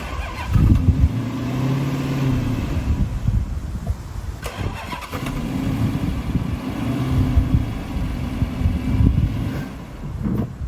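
A V8 Dodge Charger under rebuild revs hard while being put in drive, two long surging engine pulls rising and falling, loud and close, with a brief mechanical clunk between them.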